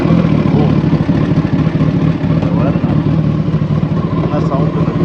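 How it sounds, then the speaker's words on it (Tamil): A Kawasaki Ninja ZX14R 1400cc sport motorcycle engine, sitting in neutral, runs at a loud, close, steady idle with a rough, pulsing mechanical clatter that holds throughout. "வண்டி ஸ்டார்ட் பண்ண போகிறோம்"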